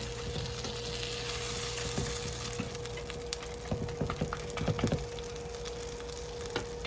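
Food with sharp cheddar sizzling in a frying pan as it is flipped and mashed down, steady frying hiss with scattered clacks and scrapes of the spatula, close and without speech.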